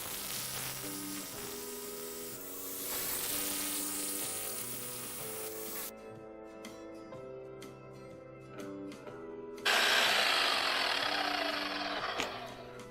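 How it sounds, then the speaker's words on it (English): A Bosch hammer drill bores holes for vertical rebar in a root cellar build with a loud, grinding rattle that eases off briefly midway and then returns at full strength, with no talking. "This Bosch hammer drill, and we're going to drill I think 48 holes"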